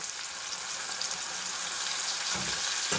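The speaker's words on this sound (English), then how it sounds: "I like to flip burgers a lot." Burgers sizzle and fry steadily in a hot pan, a continuous close crackle with a couple of soft thumps near the end as patties are flipped; no one speaks.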